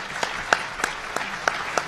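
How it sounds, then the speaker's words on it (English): An audience applauds a speaker named Athena at a talk on the cost of bias, with sparse, fairly distinct claps repeating at a loose rhythm. "can we give another round of applause to Athena?"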